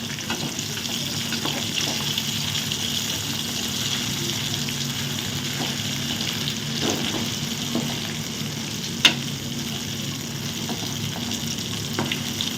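Chicken 65 fries in a pan, a steady, moderately loud oil sizzle and crackle that runs throughout, broken once by a single sharp click, with no voices.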